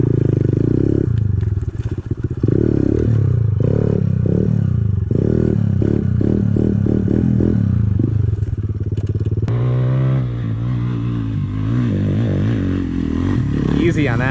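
A pit bike engine lugs uphill in third gear, a low, strained drone with mechanical clatter and scraping that continues steadily; its pitch shifts and rises near the end, and voices can be heard over the engine.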